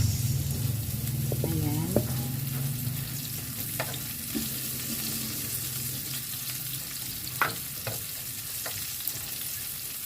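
Onion sizzles steadily as it fries in a pan with garlic, with scraping stir strokes and clinks of a utensil; someone speaks briefly over the hiss early on.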